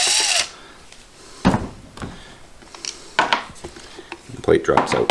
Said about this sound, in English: Simply remove the 2 screws.